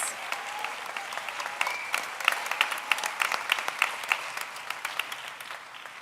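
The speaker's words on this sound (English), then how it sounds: "How about another big round of applause for the band for the first time they've performed live for an audience?" An audience applauds a band at a 2021 high school graduation ceremony, a dense, moderately distant wash of clapping that swells in the middle and tapers slightly toward the end.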